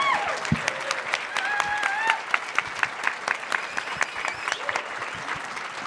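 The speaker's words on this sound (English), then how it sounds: "Can we get a round of applause for Teal and Franklin?" Audience applause at a keynote dinner: a room of diners claps steadily with sharp individual claps standing out near the mic, and a few voices and whistles over the top.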